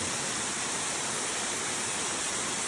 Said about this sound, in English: The water dripping all around, moss, algae growing on the rocks.